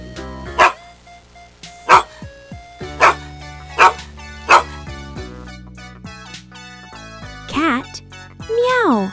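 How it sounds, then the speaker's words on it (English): A dog barks in five sharp, evenly spaced yelps, loud and close, followed by a couple of whiny, rising vocal sounds near the end. "Dog. Woof woof."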